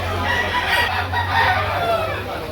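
Roosters crow amid a busy outdoor chicken market behind a mall in Lipa City, Batangas, with overlapping bird calls and crowd noise filling the background.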